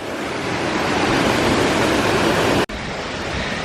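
A waterfall along a mountain trail near The Chief in Squamish sends up a loud, continuous rushing roar of falling water, close and unbroken apart from a split-second dropout, with no talking.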